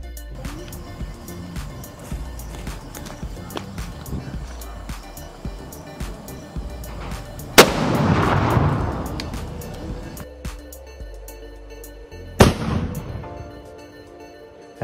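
Two bullet-type Diwali firecrackers set off outdoors blast with sharp, loud cracks a few seconds apart, the first followed by a rushing, crackling rumble, over steady background noise from the street.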